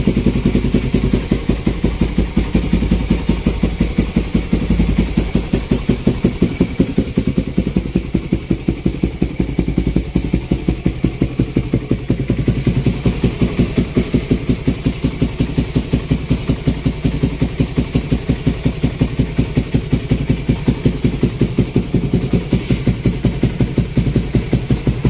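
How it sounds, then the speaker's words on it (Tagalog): A Suzuki Raider 150 motorcycle with a newly installed vacuum-type fuel pump idles close and loud, its even, rapid engine pulse and light mechanical clatter holding steady without stalling throughout. "At napakaganda ng idle niya ngayon. Hindi na kasi nabibitin sa gasolina."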